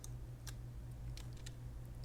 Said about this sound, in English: She's stepping all over my keyboard.